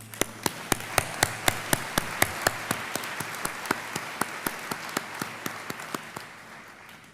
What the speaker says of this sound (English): Gotta give y'all a hand clap for that.